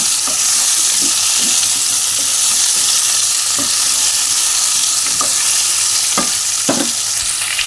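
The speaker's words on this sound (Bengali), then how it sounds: "এটা ভালো করে নাড়িয়ে চাড়িয়ে নেব 5-7 মিনিটের জন্য" Yam and prawns frying in a pan while being stirred: a loud, constant sizzle hisses throughout, with scattered scraping and knocking strokes from the spoon, close up, with no voices.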